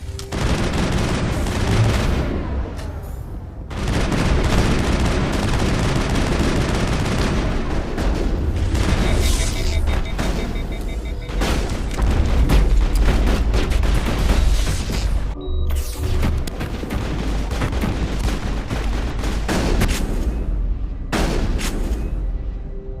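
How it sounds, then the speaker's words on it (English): Gunfire in the Mass Effect video game: dense, sustained bursts of automatic fire and booming impacts, loud and continuous with a few brief gaps, with no speech over it. "We've got orders from Benezia. Open fire!"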